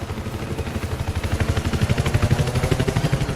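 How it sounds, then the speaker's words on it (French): A helicopter lifts off in Battlefield 4, its rotor blades chopping in a fast, steady pulse that grows louder and more forceful, heard close and alone without talking. "il y a un hélico qui décolle"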